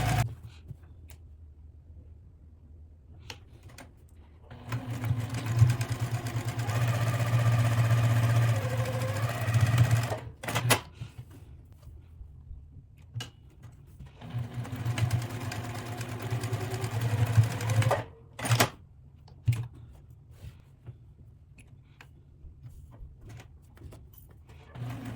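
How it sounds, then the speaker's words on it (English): A sewing machine whirs through two long runs of rapid mechanical stitching, separated by quieter pauses and a few short clicks. "So we're here in the sewing machine, and now we're going to start to sew,"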